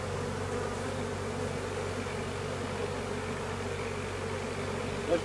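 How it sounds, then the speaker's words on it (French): A soft, even buzz of many honeybees around an open hive carries on steadily, fairly quiet and unbroken, with no one speaking. "Toujours des abeilles."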